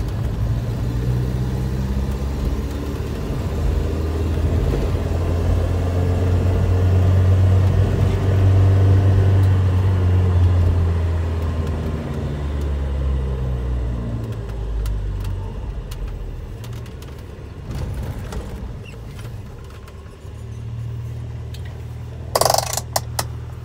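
A 1985 Volvo 240 station wagon's four-cylinder engine, at 317k miles, hums steadily at a low pitch while driving, holding a constant drone with slight rises before easing off near the end.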